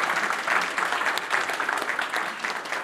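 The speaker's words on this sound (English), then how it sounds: "Let's give applause." Audience at a cybersecurity conference hall claps steadily, a dense, even patter of many hands sustained throughout at moderate loudness, with no clear talking over it.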